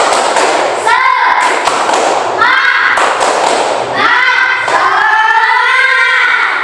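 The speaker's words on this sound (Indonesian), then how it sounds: "Tepuk semangat lagi. Tepuk semangat." Classroom group performing a rhythmic clapping chant, tepuk semangat: loud bursts of many hands clapping in patterned sequences, with children's voices chanting along between and over the claps.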